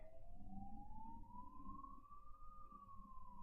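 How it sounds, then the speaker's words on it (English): Ambulance siren in one long rising-and-falling wail, steady and fairly loud over a low rumbling background of traffic, with no talking. "Come on, ambulances. It's like an ambulance army coming."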